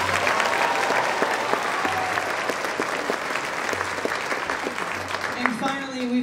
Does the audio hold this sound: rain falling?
no